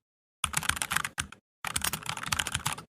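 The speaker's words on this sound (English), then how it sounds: "It's the fake typing." Rapid computer keyboard typing, staged as fake busywork, in two bursts of quick, close, clicky keystrokes separated by a short pause.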